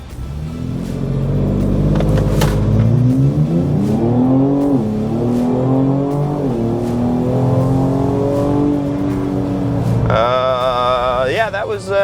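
A 2025 Ford Explorer ST fitted with an aftermarket intercooler, driven hard with a loud engine roar that climbs steadily through the revs, then a shift and a fresh rising pull near the end, heard from inside with some voice underneath.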